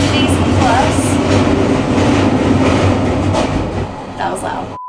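Maharajas' Express luxury train in India rumbles loudly and steadily while riding, with rattling clatter and brief squeaks, and a voice is faintly audible underneath.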